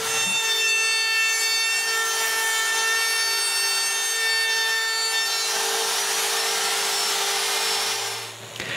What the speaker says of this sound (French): Je dois aussi sabler les 8 trous.